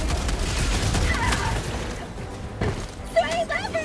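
Gunfire from weapons in Helldivers 2, rapid shots and impacts that crack out in bursts over a dense mix of game noise, fading briefly before a few more sharp hits as a player talks.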